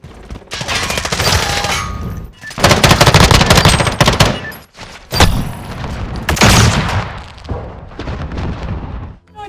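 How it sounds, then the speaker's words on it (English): Dense gunfire and rolling explosions from a Call of Duty: Modern Warfare multiplayer match, loud and near, with sustained automatic bursts broken by short gaps and heavy booms, no voices. "there's a pretty steady rolling explosion in any Call of Duty match, not to mention all the gunfire and reloading clacks"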